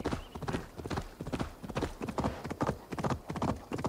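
Horse hooves on open land in Assassin's Creed Valhalla: a quick, steady galloping clip-clop beats on evenly and close, with no talk over it.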